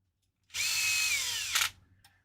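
A power drill driving a screw in a single burst of about one second, whining steadily with a slight drop in pitch before a brief ratcheting clatter as it stops, close and alone.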